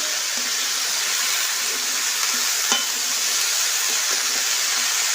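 Grated potato hits a hot wok in a village kitchen and sizzles steadily, a loud continuous frying hiss with faint stirring ticks and one brief clink, no voices.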